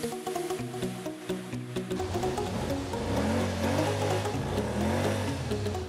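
A motorcycle engine roars and revs, rising pitch sweeps climbing and falling as the throttle opens, loud and close with no talk over it.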